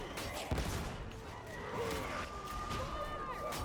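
Gunfire and explosions in the video game Warhammer 40K Darktide, a dense, continuous battle din with sharp shots and booms under a steady background roar, heard close and loud.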